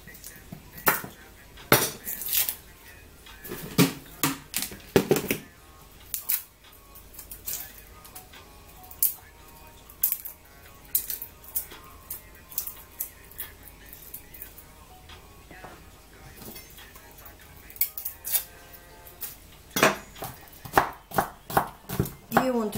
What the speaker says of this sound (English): you want to grab some garlics and some onion and chop it